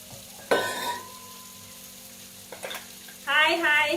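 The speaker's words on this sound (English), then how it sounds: "let the mushroom cook for a while, maybe 2 to 3 minutes" Mushrooms frying in a pan for a seafood aglio olio made with instant noodles: a soft background sizzle broken by sudden clattering stirs, one near the start and a louder, longer one at the end.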